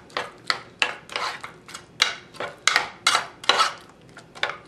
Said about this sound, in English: And I'm going to add some cayenne pepper. And just give them a quick mix.